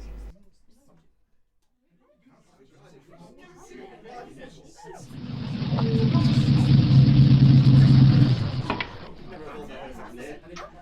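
A car drives off in an audio drama: a low engine rumble swells and holds loudly for a few seconds, then cuts away, with quiet voices and scene noise before it.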